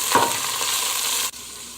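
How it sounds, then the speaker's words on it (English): Pork steak seasoned with Sazon simmers in a pan, a close, even sizzle with a stirring scrape at the start and a sharp clunk before it eases. "while that pork steak is simmering"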